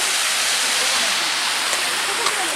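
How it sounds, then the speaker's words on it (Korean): A steady, broad rush of falling water from an artificial waterfall in an arboretum fills the space evenly, a constant close roar without pauses. "인공 폭포가 있습니다. 인공 폭포가 있고"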